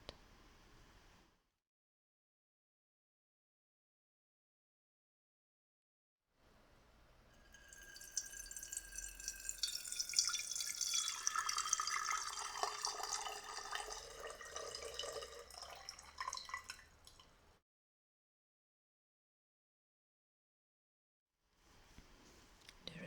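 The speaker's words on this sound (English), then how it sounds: "I pour the tea over a strainer into the second teapot." Sencha tea is poured through a strainer into a second teapot, a soft, close trickle that swells over several seconds and then stops, surrounded by near silence.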